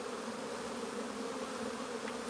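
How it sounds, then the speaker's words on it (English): Honeybees crowded in a nuc hive make a dense, continuous buzzing drone, close and steady for the whole moment, with no voices. "there's just too many bees in it"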